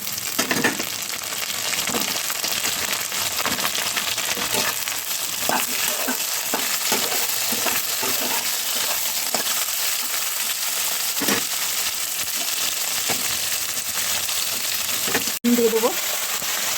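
Vegetables tossed into hot oil with onions and ginger sizzle steadily in a pan, with scattered scraping and stirring knocks throughout and a sharp clink near the end.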